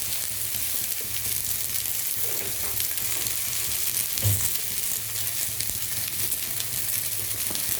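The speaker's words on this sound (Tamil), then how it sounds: "இதில் கொஞ்சம் உப்பு போட்டு வதக்கி விடலாம்" Sliced vegetables sauté with salt in a hot oiled pan for radish sambar and okra stir-fry, giving a loud, continuous close-up sizzle with the occasional stirring scrape and no voices over it.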